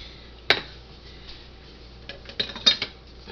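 Raisins, chopped walnuts and sunflower seeds dropped into a garden salad bowl: a sharp clink near the start, then a quiet pause and a small cluster of light taps and clatters, close and fairly soft.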